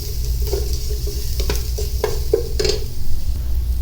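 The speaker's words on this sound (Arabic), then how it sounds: "بعد ذلك نضيف الفلفل الأحمر والثوم ونحركه قليلا" Red pepper and garlic fry in ghee under a loud, close sizzle, while a utensil scrapes and taps through it in several irregular stirring strokes.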